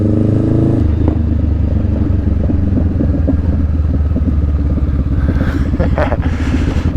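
A Honda Rebel 500's Vance & Hines exhaust rumbles loudly, then breaks into a rapid, popping, crackling burble as the engine brakes off throttle, heard at close range.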